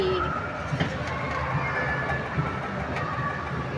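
A passenger train rolls along its rails with a steady, moderately loud rumble and faint rhythmic clicks, with a soft background hum throughout.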